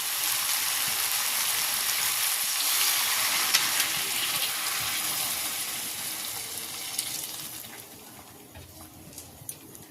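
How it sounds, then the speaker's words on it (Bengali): Water added to a sizzling potato and green pea curry in a pan, a loud hissing sizzle that gradually settles as the liquid spreads, with light stirring clinks. "এবার আমি এর মধ্যে দিয়ে দিচ্ছি জল।"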